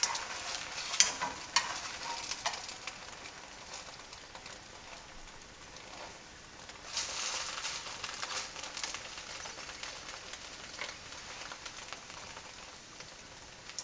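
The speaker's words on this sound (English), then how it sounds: "we take our turner and we flip it over" A thin French crepe is flipped with a turner in a hot pan and keeps up a faint, steady sizzle, with a brief louder hiss partway through and no one talking.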